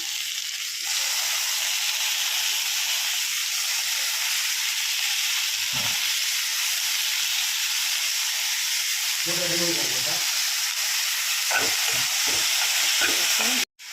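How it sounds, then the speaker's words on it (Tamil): Tomatoes hiss and sizzle in hot oil in a pan, a loud continuous frying roar with a few clinks and stirring scrapes near the end. "ஆயில் போட்டு ஸோ அதுக்கப்புறம் தக்காளி ஆட் பண்ணிடுவோம்"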